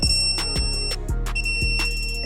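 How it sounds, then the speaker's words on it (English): A digital torque wrench set to 19 newton meters beeps while tightening a top bolt on a BMW S1000XR motorcycle, giving several short, sharp electronic tones in an irregular run with no talk. "You should hear the solid beep."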